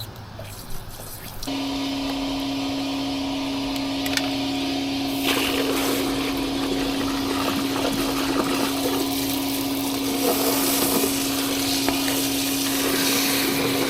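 Water rushes steadily through a roof drain after a flush, a constant loud hiss and drone that starts abruptly and runs unbroken with a strong pump-like hum, no talking.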